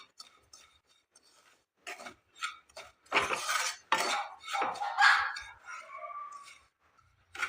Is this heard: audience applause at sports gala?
no